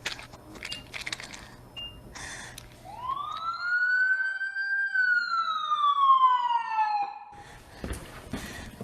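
An ambulance siren in a virtual reality training scenario gives one long rising-then-falling wail, loud and clear, lasting several seconds between bursts of other scene noise.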